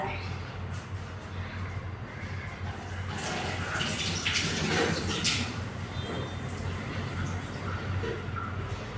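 Water runs steadily from a tap while something is rinsed under it, a continuous close splashing wash with a few brief clatters and a speaking voice over it.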